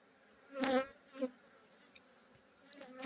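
Honey bees at a beekeeping site in Saudi Arabia, with hives and tents nearby, give a loud buzzing pass close by, then a shorter second one, and faint buzzing drifts in and out over a quiet background.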